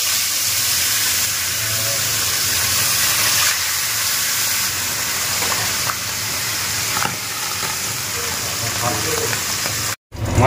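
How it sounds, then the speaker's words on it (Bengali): Fish frying in hot white cooking oil, a close, steady sizzling hiss that runs almost the full length, with faint stirring clatter and a brief dropout near the end. "মাছ ভাজা হয়ে গেল"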